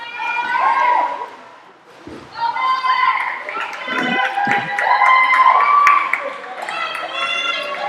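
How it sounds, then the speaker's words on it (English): A crowd of high school teammates cheers and shouts enthusiastically for a swimmer during a swim meet, with voices rising and falling in loud, sustained bursts that echo through an indoor pool setting. "I'll give you a little sneak peek at his teammates cheering enthusiastically for Ben"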